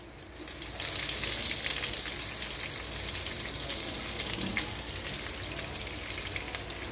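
Unpeeled garlic cloves, skin still on, frying in a pan for adobo, giving a steady, dense, crackling sizzle that carries on evenly throughout with no voices.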